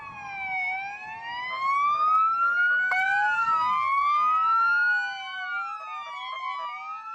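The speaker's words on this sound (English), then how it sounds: "come barreling down the road, blaring their sirens" Several wailing police and fire sirens overlap and sweep up and down in pitch, loud and close, from emergency vehicles passing together down a road.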